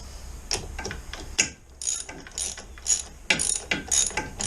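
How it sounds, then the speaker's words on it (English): Ratchet tightening a bolt on a BMW R1250RT motorcycle during a tire replacement: quick bursts of sharp metallic clicking in several short strokes with brief pauses, close and fairly quiet, with no talking. "Use my normal ratchet."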